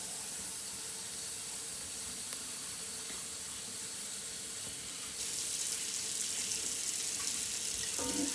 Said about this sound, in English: I'm going to add the water to this now.